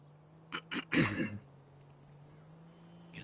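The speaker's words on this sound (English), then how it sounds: "constantly clearing my throat" A man clears his throat close to the mic, a quick series of rough, raspy bursts lasting about a second, over a steady low hum.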